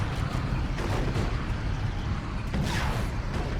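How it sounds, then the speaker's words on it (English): A Tyranid Carnifex fires its Venom Cannon in Dawn of War 2: Retribution, a steady din of heavy battle blasts, rumbling impacts and mechanical clatter filling the whole stretch without a break. "the Carnifex missing with the Venom Cannon"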